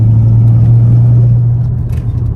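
A 392 V8 car fitted with headers pulls through a curve, a loud, steady low engine drone heard from inside, easing slightly toward the end.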